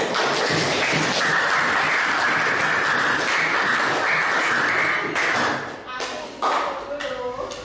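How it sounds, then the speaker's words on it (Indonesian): Applause from a group at an Islamic religious talk, a dense continuous patter of clapping that stays loud for about five seconds, then thins and fades into scattered claps. "Baiklah, tepuk tangan"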